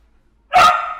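A single sharp dog bark, loud and close, breaking abruptly out of near silence with no talk.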